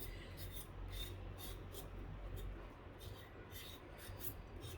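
A knife scrapes and trims the peel of a raw Kerala nendran banana, giving a close, steady rasping rub with soft repeated strokes and no talk.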